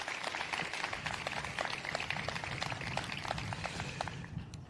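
Audience applause for labor leaders at a speech, a dense steady patter of many hands clapping at moderate distance that continues throughout.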